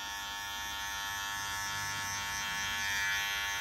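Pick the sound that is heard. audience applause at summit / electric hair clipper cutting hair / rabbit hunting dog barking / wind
electric hair clipper cutting hair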